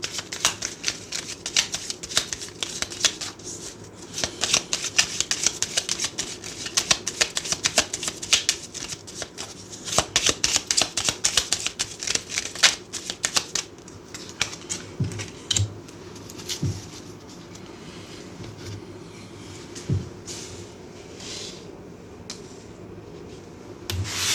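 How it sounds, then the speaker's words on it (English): Tarot and oracle cards being shuffled by hand, a close, continuous run of papery riffles and rapid slides, with busy bursts and brief pauses throughout and no talking. "feel free to just skip past me shuffling"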